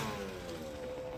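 A running SYX-R 50 motorbike engine gives a steady, close mid-pitched drone, holding an even level with no speech.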